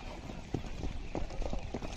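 Horse hooves clip-clop in a steady walking rhythm during jumping training at Dundlod, Jaipur, fairly close, with faint background voices under the hoofbeats.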